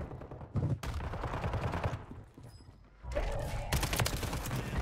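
Gunfire in Call of Duty Warzone on Rebirth Island, bursts of rapid automatic shots in two stretches separated by a quieter gap, loud and close, with faint voices in the mix.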